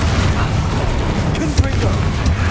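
Confringo, the fire spell in Hogwarts Legacy, bursts with heavy booming thuds inside a constant roar of battle effects, one sharper hit standing out near the middle.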